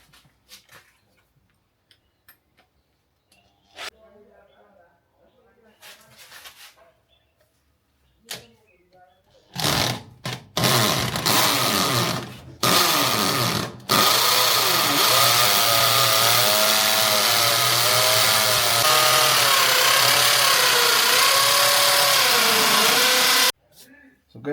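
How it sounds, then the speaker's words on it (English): An electric drill bores a hole in a wall for a socket, roaring loudly and steadily for about ten seconds with its pitch wavering under load, after short bursts and quiet clicks and scrapes at the start. "So I just want to drill"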